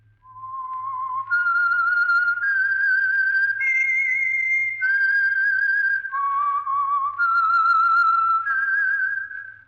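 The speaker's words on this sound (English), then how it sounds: "That whistle is your signal for the Signal Oil Program, The Whistler." A lone whistled melody serving as the theme signal for the Signal Oil radio program, The Whistler: a clear, pure, close whistled tune stepping through several sustained notes with brief gaps, over a faint low hum.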